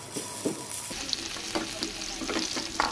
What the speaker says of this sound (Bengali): এবারে আমি তেলের মধ্যে দিয়ে দেব আলু।